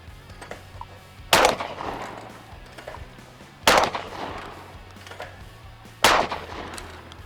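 Three loud, evenly spaced blasts from a Charles Daly 601 semi-automatic shotgun, each a sharp crack with a short ringing decay, separated by quiet gaps of a couple of seconds.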